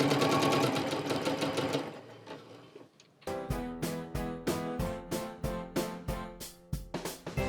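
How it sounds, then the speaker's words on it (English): A sewing machine stitches across a fabric crayon holder, first in a fast continuous whir, then after a brief pause in rhythmic bursts of rapid stitching with short gaps between them, close and clear. "Now we've sewn all the way across,"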